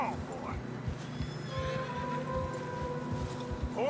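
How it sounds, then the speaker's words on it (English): Horses in the video game Red Dead Redemption 2 neigh and whinny while struggling through fresh snow, over a low rumbling background, with some talking and faint clopping mixed in. "Horses are struggling."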